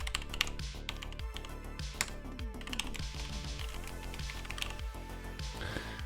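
Someone types on a computer keyboard, a quick, uneven run of faint, close keystroke clicks with no talking.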